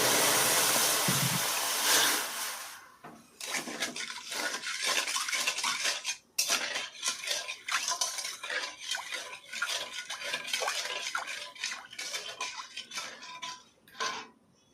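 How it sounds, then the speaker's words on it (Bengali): A bowl of sugar and then a bowl of water go into a kadai on a gas stove, with a burst of pouring followed by repeated clinks and scrapes of metal on the pan, close by and alone. "কড়াইয়ের মধ্যে আমি এক বাটি চিনি দিয়ে দিচ্ছি এবার এর মধ্যে আমি এক বাটি জল দিয়ে দিচ্ছি"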